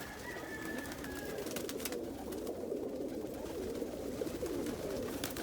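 Fancy stencil pigeons, bristle frost stencils among them, cooing in a loft with a young bird of the year present, a steady low murmur of coos continuing throughout with a few brief sharper sounds on top.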